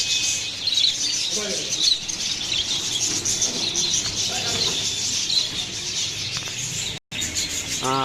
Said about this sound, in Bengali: এখানে আছে হচ্ছে ডায়মন্ড ঘুঘু অর্থাৎ ঘুঘু বেশ কিছু ঘুঘু পাখি আছে